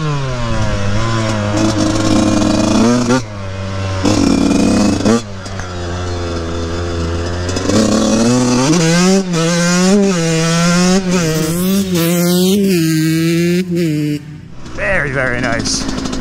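A Yamaha YZ144 dirt bike fitted with a thumb throttle revs hard to full throttle, its loud, close two-stroke engine climbing and falling in pitch through several sustained bursts.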